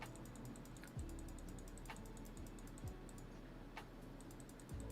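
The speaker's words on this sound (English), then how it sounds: "Well, I'll be clicking for a minute." Steady, rapid clicking of a computer mouse, faint and close, repeating without pause as someone clicks to set a two-minute timer.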